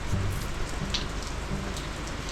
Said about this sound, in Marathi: पाऊस एकदम धो चालू होतो